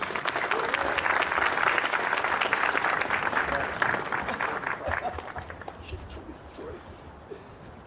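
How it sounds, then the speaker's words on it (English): Audience applause at an outdoor statue unveiling for Knoxville's first Black baseball team, dense clapping that holds steady for several seconds, then thins and fades toward the end, with a dog faintly heard. "Let's give it a round of applause for Renee Kessler."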